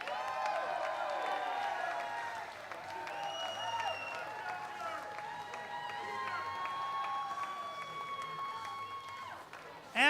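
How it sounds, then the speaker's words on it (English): Applause and cheering for the runner-up at a darts event, with a crowd clapping steadily while long, wavering shouts and whoops rise over it throughout. "A round of applause for our runner-up, David Cameron."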